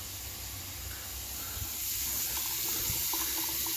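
Hot and cold water run steadily from a household tap during a plumbing check, a continuous hissing rush that grows slightly louder partway through, with no voices.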